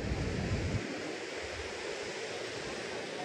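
Surf washes steadily onto Legian Beach in Bali at sunset, a continuous broad rush of breaking waves with some wind buffeting the microphone at the start.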